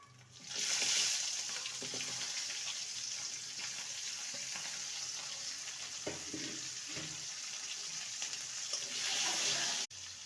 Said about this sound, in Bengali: ফোড়নটাকে কয়েক সেকেন্ড ভেজে নিলেই দিয়ে দেবো কেটে রাখা কাঁচা টমেটো